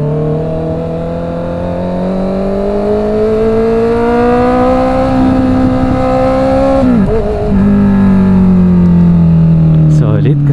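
A Honda CB650R motorcycle engine revs loud and close, holding a steady high drone that climbs slowly, dips sharply around seven seconds, then surges back with a quick rev near the end while a voice talks over it.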